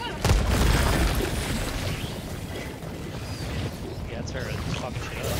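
A grenade detonates in the Helldivers 2 shooter game, a heavy boom that swells into a long, dense rumble of battle noise with mechanical clatter. Voices are heard over the din.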